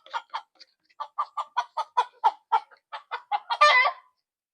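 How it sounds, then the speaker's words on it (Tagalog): Frightened farm chickens cluck in a rapid, close run of sharp alarmed calls near a homemade PVC boga cannon, ending in a louder, denser squawking burst. "Natatakot yung mga manok."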